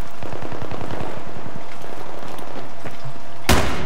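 G36 assault rifle fire in a hardcore-mode shooter video game, a quick run of sharp shots followed by one loud close blast, with no talk over it.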